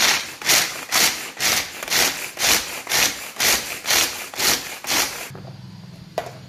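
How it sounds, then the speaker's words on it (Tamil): A hand-pulled manual chopper cuts nuts for makkan peda in about ten rhythmic grinding whirs, each a short burst of scraping, close and loud, before the pulls stop and a low steady hum remains. "இது எல்லாத்தையுமே நான் இந்த சாப்பரில் போட போகிறேன், எங்கிட்ட உள்ள இந்த சாப்பரில்."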